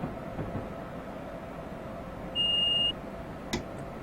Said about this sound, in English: how you respond to the signalling alarms that come in